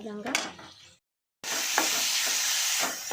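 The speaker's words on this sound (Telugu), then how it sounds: "విధంగా వేగుతుంది. టమాటా బాగా వేగాలి." Tomatoes sizzle and fry in hot oil in a pan for a village-style chutney, a loud, steady hiss after a brief silence, with stirring scrapes and a few clinks close by.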